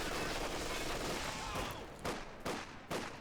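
Incendiary rounds hammer the rear armor of a tank in Company of Heroes 2, a dense rolling fusillade of automatic fire followed by three sharp, loud impact bursts spaced about half a second apart.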